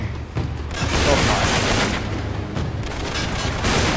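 Rapid bursts of gunfire in Uncharted 3: Drake's Deception Remastered ring out in a dense, continuous barrage, with booming shots layered over a steady low rumble and no talking.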